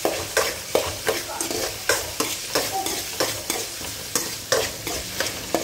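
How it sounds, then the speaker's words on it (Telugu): Onions frying in a pan, a loud sizzle broken by regular scraping strokes of a spatula at roughly two per second, with no one talking. "వేసేసుకొని బాగా ఫ్రై చేసుకోండి"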